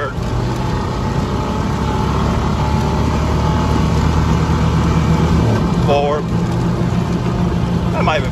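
A car engine drones loudly and steadily from inside the vehicle, with a brief faint chirping squeak near the end and no clear climb in revs.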